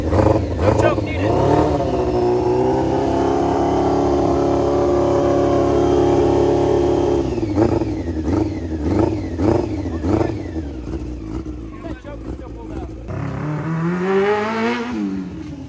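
A small engine repaired with JB Weld runs loud and close, revving up and holding a high steady whine, then dropping into uneven sputtering revs and climbing again, with voices talking over it.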